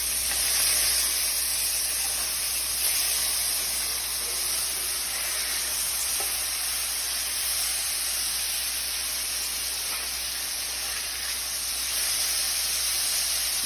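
Burgers searing in a hot pan, a steady close hiss and sizzle with little change throughout and no talking.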